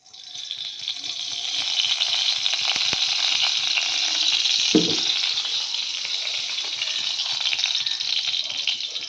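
Hot oil sizzling steadily in a pan as spices are tempered for a Bengali dhudul ghant with chickpeas, a continuous close frying hiss with a brief stir or clatter midway, no voices.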